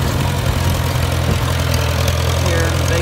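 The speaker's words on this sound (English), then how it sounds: "We're going in second gear on this old Super C." An old 1952 Farmall Super C tractor in second gear pulling a manure spreader across a hay field, its engine a steady low droning rumble with constant vibration, loud and close, with a voice talking faintly beneath.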